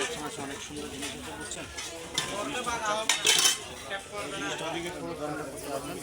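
A Delhi aluminum saucepan handled at a market stall, its lid and body clanking and scraping in irregular metallic knocks beneath steady talk and background chatter.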